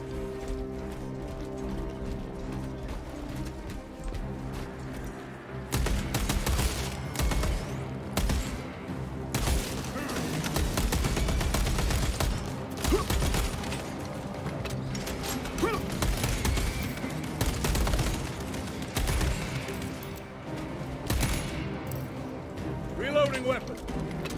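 Bolt carbine gunfire in the game Space Marine II comes in dense rapid bursts over a busy battle mix, with talk and sporadic mechanical clatter around it.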